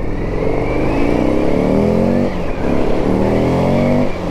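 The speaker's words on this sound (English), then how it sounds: "There's a little boy driving that his dad's Audi." An Audi car drives past with a steady, loud accelerating engine note climbing in pitch, heard close, with a brief dip midway, and almost no talking.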